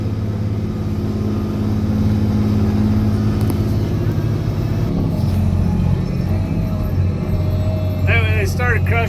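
A Caterpillar 637C scraper stripping ground at a gravel pit, a loud steady diesel drone heard from inside the cab, with someone talking over it throughout.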